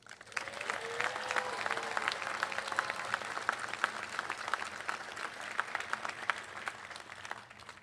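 Sustained applause from a large audience honoring graduates at the Cal Maritime 2025 commencement ceremony, dense steady clapping lasting throughout with no pauses.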